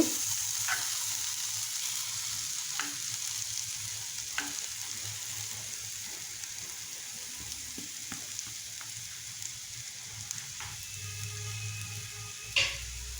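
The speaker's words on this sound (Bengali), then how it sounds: "এখন আমি আবার নেড়ে চেড়ে দিচ্ছি" Young bottle gourd cooks in a pan with a steady low sizzle while a utensil stirs it, making occasional scraping knocks and clinks against the pan.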